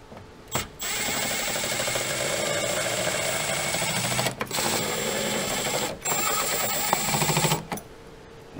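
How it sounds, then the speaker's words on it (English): A power driver starts screws to hold a Kicker speaker in its bracket in a Toyota 4Runner, three to four sustained buzzing whirrs of about one to three seconds each, close, separated by brief pauses. "And start our screws that are going to hold our speaker into the bracket."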